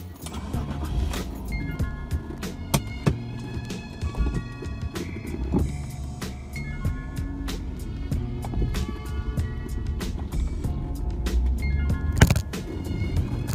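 A car drives on a road home, with a steady engine and road rumble throughout, punctuated by frequent sharp clicks and rattles from a phone mount or loose objects on the dashboard.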